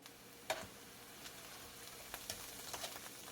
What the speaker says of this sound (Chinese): 不粘锅里边倒入植物油15毫升，放入香菇粒儿，翻炒几下